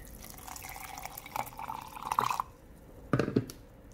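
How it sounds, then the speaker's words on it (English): Water splashes and trickles into a baby smoothie with blueberries in short bursts, close and fairly quiet, with a brief pause before a final pour. "I'm going to add some water."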